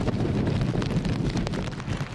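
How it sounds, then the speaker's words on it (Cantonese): Strong wind and driving rain sweep over Tolo Harbour by the Science Park under typhoon signal 8 as Tropical Storm Tapah passes, a loud, steady roar of gusts buffeting the microphone with constant hiss and rumble. "科學園對開嘅吐露港喺8號信號下大風大雨"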